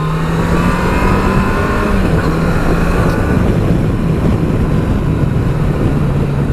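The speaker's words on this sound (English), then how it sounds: "Beautiful creamy 4-cylinder engine, smooth as you like, pulls like a train, brilliant." A Yamaha FJR1300 motorcycle's smooth four-cylinder engine pulling hard on the road, a steady loud drone with a rising then leveling pitch mixed with heavy wind rush, no voices.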